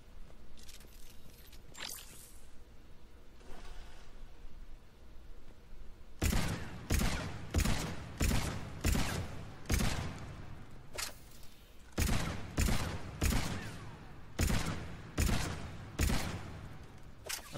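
Hand cannon shots boom in the video game Mass Effect 3 after a short stretch of quieter background, with loud single reports spaced about a second apart in two runs, close and without talk.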